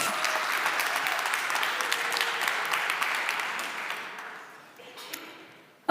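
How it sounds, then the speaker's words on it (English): Applause from an audience at a software developer conference talk on Nx workspace generators and executors: dense, steady clapping that carries on for about four seconds, then thins out and fades to a few scattered claps. "So you can give yourself a big round of applause."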